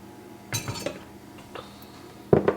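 Crockpot potato cheddar soup being ladled into a bowl, with a few sharp clinks of ladle and spoon against the dish and soft splashes in a quiet kitchen.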